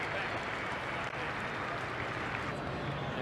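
A rugby league crowd at a Melbourne Storm versus Sydney City Roosters match applauds in a dense, steady wash of clapping that fills the stadium without a break, with commentary faint beneath it.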